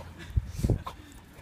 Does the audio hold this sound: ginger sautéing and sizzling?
no